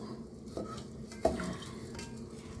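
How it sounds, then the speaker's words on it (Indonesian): Spice paste being stirred into rice in a pot for Indonesian yellow rice, close scraping strokes with a clink of the spoon against the pot midway, no talk. "Kita aduk rata dulu ya"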